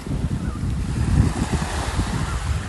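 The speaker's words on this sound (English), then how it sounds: "we're now walking along the footpath along the beach" Surf washing onto a beach in Mallorca, a steady low rolling wash of waves with wind buffeting the microphone throughout, fairly close and continuous with no talking.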